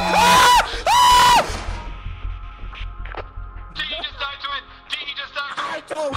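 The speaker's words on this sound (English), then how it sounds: "It's something that's screaming." A creature screams in a horror video game, two long piercing shrieks up front, then scattered harsh cries and thuds that grow loud again toward the end.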